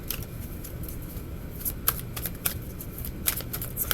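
Tarot cards are shuffled close by, producing a soft continuous riffling with sharper flicks and snaps at irregular moments, with no talking.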